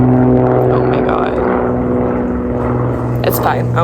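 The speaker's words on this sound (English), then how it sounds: "airplane is so loud." Small propeller airplane passing overhead outdoors, a loud steady droning buzz with strong low hum that dominates the whole stretch and stays close and constant.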